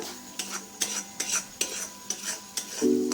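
Cashew and garam masala paste being sautéed for paneer masala, a rhythmic series of spatula scrapes against the pan, about seven evenly spaced strokes over a faint sizzle.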